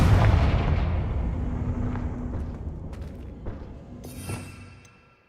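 Confringo spell explosion in the Hogwarts Legacy video game, a loud booming blast that opens the clip and rumbles as it decays over several seconds, with a smaller crackling burst near the end.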